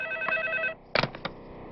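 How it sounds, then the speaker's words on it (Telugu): A telephone ringing with a steady electronic trill that breaks off partway through, followed by a few faint clicks and knocks in a quiet room. "పిల్ల దగ్గర నుంచి ఫోన్ అనుకుంటా"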